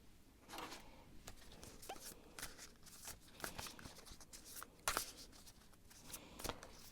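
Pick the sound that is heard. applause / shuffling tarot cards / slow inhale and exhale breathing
shuffling tarot cards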